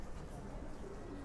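Silver pigeons coo softly in a low, continuous murmur with a steady background hum, no distinct separate calls standing out over the short stretch.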